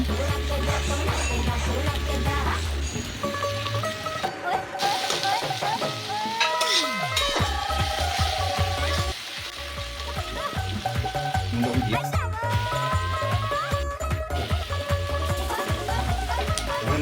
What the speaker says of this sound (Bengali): হালকা ব্রাউন মতো ভাজছে